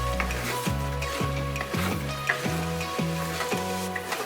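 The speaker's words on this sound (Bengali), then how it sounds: "এখন জাস্ট কষানো হচ্ছে মানে মশলাটা ভালো করে মেশায়" Spiced Bengali mutton with masala is stirred and fried in a pan, a close continuous sizzle broken about twice a second by repeating low, tonal scraping strokes.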